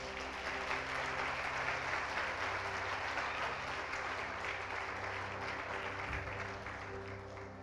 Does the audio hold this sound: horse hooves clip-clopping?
no